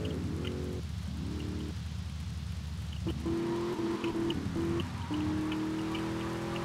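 Rain falls in the video game GTA Vice City as a steady hiss running throughout, beneath a humming car engine whose pitch shifts as it drives.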